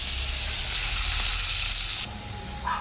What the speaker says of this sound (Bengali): দেখো আলু আর সিমটা ভাজা হয়ে গেছে